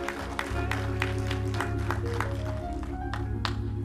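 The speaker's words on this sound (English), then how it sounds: "let's give the Lord another hand clap of praise" A church congregation claps hands in praise during a Methodist worship service, a sustained rhythmic round of claps layered over organ-like music throughout.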